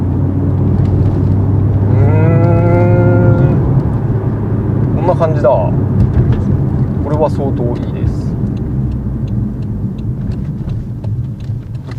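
Low, steady rumble of a Toyota Chaser JZX100's 1JZ-GTE engine through a GP Sports muffler, heard from inside the sedan on a test drive, with people talking over it most of the way.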